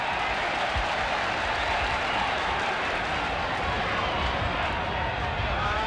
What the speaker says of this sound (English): The crowd getting right behind the Dragons here.